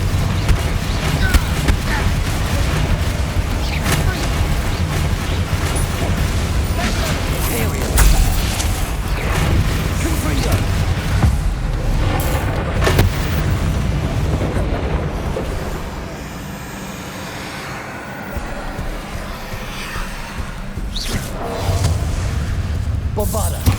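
Explosive Bombarda and Confringo spells crash through a dense, continuous wash of combat noise in Hogwarts Legacy, with repeated heavy booms, brief dips and shouted voices throughout.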